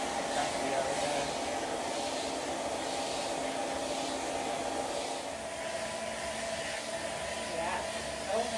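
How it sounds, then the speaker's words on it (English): A dog hair clipper connected to a vacuum runs continuously, a loud, steady whirring roar with a constant airflow hiss, while a voice talks faintly underneath. "So this clipper is connected to this. It vacuums it up as you clipper."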